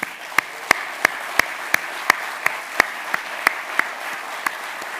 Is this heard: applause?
yes